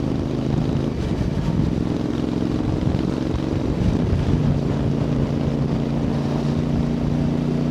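A Voge 625DSX motorcycle fitted with a Scorpion exhaust cruises at 3,000 to 4,000 revs, giving a steady low engine drone mixed with constant wind rush and no voices.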